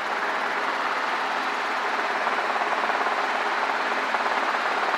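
A Robinson R22 helicopter in flight gives a steady, broad engine and rotor roar heard from inside the cabin, constant and unbroken with no talk.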